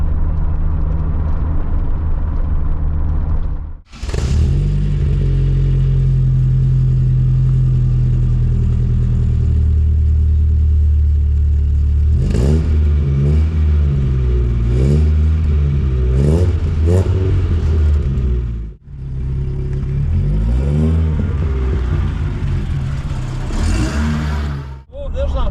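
A troublesome Vauxhall Nova 1.6 injection runs rough and revs loudly and close, its engine rumbling, dropping out briefly twice and surging again, while voices talk over it.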